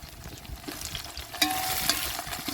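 Onions sautéing with two handfuls of mint and coriander leaves in a large pan for kuska, a steady close sizzle and frying crackle with occasional stirring scrapes and clinks, no talk.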